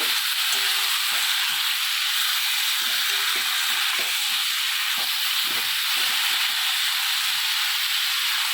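Boiled beet greens tossed into a hot pan of spices, potato and aubergine give a loud, constant sizzle, broken by irregular scraping knocks of stirring over about eight seconds.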